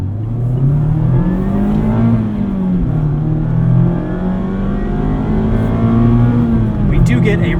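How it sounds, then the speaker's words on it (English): Engine note from a 2024 Mazda MX-5 Miata RF Club with a revised intake, heard from inside the cabin as a loud, steady drone that swells and eases slightly with throttle, with road noise beneath it. "we get a little bit more engine noise in the cabin"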